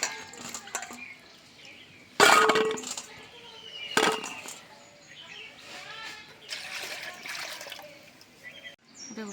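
Scraped pointed gourds (potol) are washed in water, with intermittent splashing, sloshing and rinsing bursts close by, some sharp, others softer.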